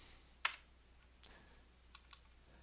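A few light keystrokes on a computer keyboard, quiet and close, come as a sharp single tap followed by softer scattered clicks over a near-silent background.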